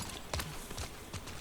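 Horse hooves clip-clopping in The Last of Us Part 2, a few soft, uneven steps heard at moderate distance against a quiet background hum.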